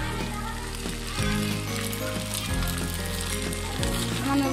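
Thai egg noodles fry in a pan, cooked in a spicy home style, with a loud continuous sizzle and rhythmic scrapes from stirring throughout.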